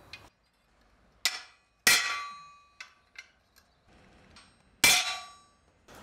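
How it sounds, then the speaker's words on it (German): A blacksmith drives a chisel into a hot iron gate strap to split it lengthwise, giving several loud, ringing metallic clangs spaced irregularly, some with lighter taps between them, heard close up with no talk. "spaltet man hier das Torband der Länge nach in einem Stück auf mit einem Meißel"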